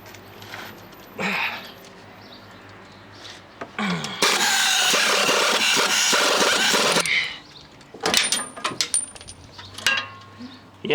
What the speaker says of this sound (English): Next I'm going to remove the sway bar links.